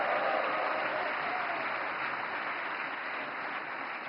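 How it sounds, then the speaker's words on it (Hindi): Sustained applause from a large audience at a Navkar Mahamantra Divas gathering, loud and steady throughout, easing slightly toward the end with no voices over it. "नवकार मंत्र के लिए जितनी ताली बजी, उससे ज्यादा जीतों के लिए बज रही है"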